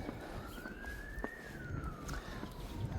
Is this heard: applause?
no